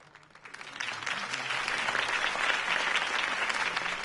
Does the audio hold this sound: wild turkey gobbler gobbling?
no